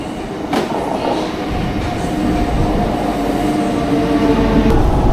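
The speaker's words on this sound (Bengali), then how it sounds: "একদম সঠিক সময়তে ট্রেন এসে গেছে, আমি ট্রেনে উঠেও পড়েছি।" Train at a station on the way to Tarapith, a steady loud rumble of rolling carriages with faint rail clatter and a couple of sharp metallic clicks.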